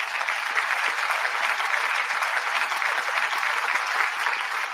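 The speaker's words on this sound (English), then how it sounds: "Give him a round of applause" A crowd gives a steady, sustained round of applause for Kent Carlson, a dense wash of many hands clapping at even loudness throughout with no talking over it.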